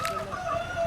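A rooster calls briefly at a cockfighting venue in Bacolod City, a short tonal crow heard amid background murmur.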